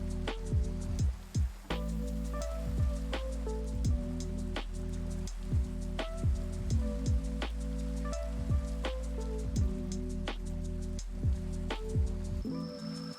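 Rain falling in a video game, a soft steady patter heard under a repeating pattern of other game sounds, with no talk.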